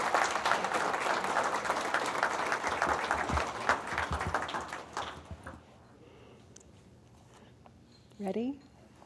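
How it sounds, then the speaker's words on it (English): An audience claps for a performing trio at an alumni tribute awards event, the applause dense at first, then thinning and fading out around halfway, leaving near quiet with a brief rustle. "That is the Cayenne Trio. Let's give them another round of applause."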